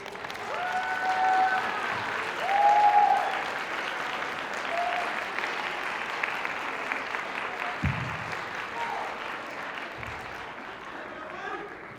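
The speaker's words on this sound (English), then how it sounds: "give a huge round of applause to the teachers and family members who supported you" An awards ceremony audience applauds teachers and family members, a broad wash of clapping that swells early and then holds steady, with whistles and voices cutting through near the start.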